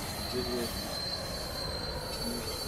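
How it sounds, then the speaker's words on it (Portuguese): Train wheels squeal in the Roblox railway game Terminal Railways, a steady high-pitched whine held over a constant rolling rumble of rail noise throughout. "Aí o trem vai e capota aí, é, carrilha e depois explode aí."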